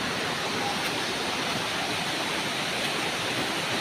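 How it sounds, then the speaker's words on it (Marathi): Mukthai waterfall near Chimur pours down in a constant broad rushing roar of water, steady and unbroken, with no voices. "किती सुंदर धबधबा आहे बघा किती सुंदर आवाज पाण्याचा येत होता"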